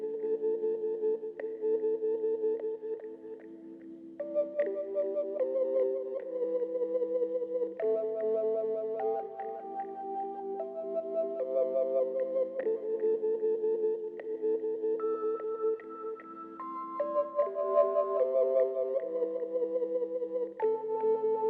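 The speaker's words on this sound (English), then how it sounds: "Next I use this broken tone wheel, like warped electric piano that sounds like this." A broken tone wheel, warped electric piano sample plays a slow chordal pattern of wobbly, detuned sustained notes, clean and alone with no other sounds.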